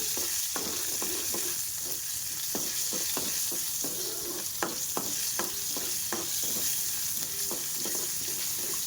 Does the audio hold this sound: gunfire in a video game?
no